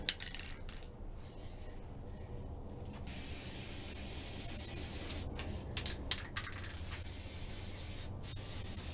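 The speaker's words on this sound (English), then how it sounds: "I'm just going to go ahead and completely spray this once" Aerosol can of purple stained glass spray paint hissing steadily onto a glass jar, a continuous close spray with a few short pauses and restarts, no voices.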